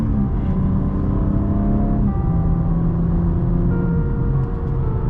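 A 2024 BMW M4 Competition xDrive engine revs up steadily and close by from inside the car, its harmonic drone climbing and shifting in pitch over a continuous road roar.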